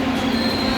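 A steady metallic squeal of light rail train wheels on rails entering an LRT station, high and sustained, with a continuous low rumble underneath.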